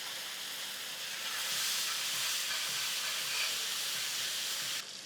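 Butter, cumin and garlic paste sizzling in vegetable oil for street-style pav bhaji, a steady, loud, hissing sauté that holds for the whole stretch and swells slightly midway, with no talking over it.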